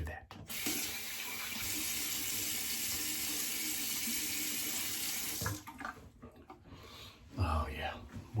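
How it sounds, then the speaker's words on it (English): Cold water runs steadily from a bathroom tap into a sink while a man rinses his face after a shave, a continuous splashing hiss that stops abruptly, followed by brief wet splashes and rubbing sounds. "I'm going to rinse off with cold water"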